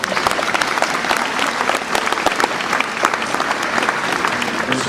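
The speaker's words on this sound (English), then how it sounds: "give them a round of applause" Audience applause, dense and lively clapping from a sizeable crowd that stays loud and even throughout.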